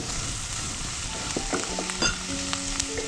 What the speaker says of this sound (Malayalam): ചെറുതായിട്ടൊന്ന് വാടിയിട്ട് നമുക്ക് സവോള അരിഞ്ഞത് ഇട്ട് കൊടുക്കാം